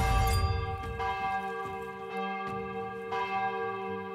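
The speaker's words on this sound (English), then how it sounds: "Hear that? It's the church bell." A church bell in the game The Valiant tolls repeatedly with long ringing overtones, strikes spaced about a second apart, sounding fairly close and with no talking.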